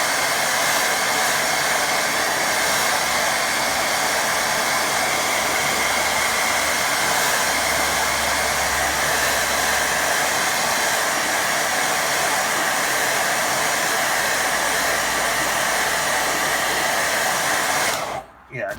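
A hair dryer blows continuously on a watercolour painting, a loud, steady broadband roar held close for the whole stretch before cutting off abruptly right at the end.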